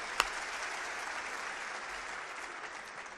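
Steady audience applause fills the hall at a Hindi comedy poetry recital, a dense wash of many hands clapping at an even level, with one sharper clap near the start and no talk.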